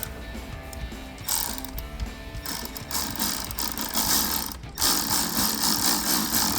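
Ratchet with an 8mm socket snugging up the bolts on a BBK 90mm throttle body on a 2008-2012 Dodge Challenger V8, fast loud clicking in bursts with a short pause, close up and alone.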